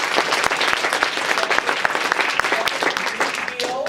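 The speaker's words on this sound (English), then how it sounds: "Let's clap for that." An audience at a city ceremony launching a children's local action plan claps loudly and close, many hands producing uneven sharp claps for a few seconds, with a few voices heard near the end.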